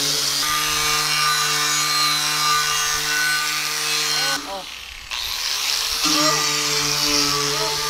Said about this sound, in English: Stop doing that with a grinder in my hand.